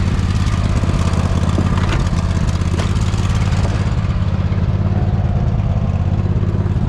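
A Poulan lawn tractor clearing snow, its engine droning loud and steady at close range for the whole stretch, with no voices.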